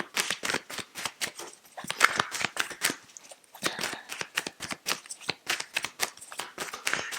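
Tarot cards are shuffled by hand in a rapid series of crisp riffling flicks and soft slaps. The sound is close and fairly quiet, arrives in irregular bursts, and carries no talk.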